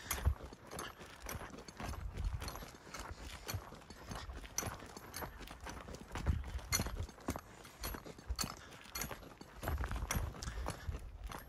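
Horses walking in a barn stall area on a cattle ranch, hooves clip-clopping in steady, uneven footfalls close by, with a soft rustling background and no voices.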